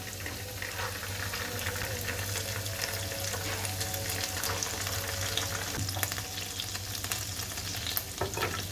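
Ginger and garlic sizzle and crackle in a hot pan, a dense continuous frying hiss with scattered sharp pops and a low steady hum beneath, close up and without talk.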